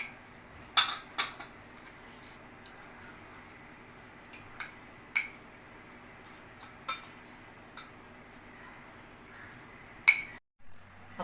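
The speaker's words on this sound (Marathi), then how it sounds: "कोथिंबीर आणि लिंबाचा रस. हे सुरुवातीला आपण सगळं छान मिक्स करून घेऊया." Spoon mixing an onion salad with coriander and lemon juice in a bowl, sparse faint clinks and scrapes against a quiet background, scattered irregularly.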